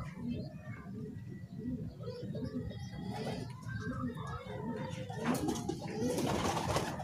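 Racing pigeons coo in a loft at Padre Garcia, Batangas, with repeated low throaty calls from several birds close by, overlapping throughout and ending with a brief rustle of wings.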